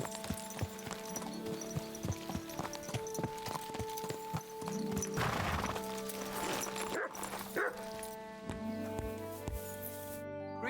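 Rhythmic clip-clop of horse hooves at a steady pace in Kingdom Come: Deliverance II, with tonal game-like background sounds and a few sharper bursts midway.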